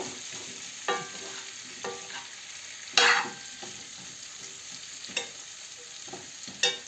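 Potatoes and meat patties being stirred in a pan, a few scraping strokes spaced across several seconds, with one louder scrape, over a faint steady sizzle and no talking.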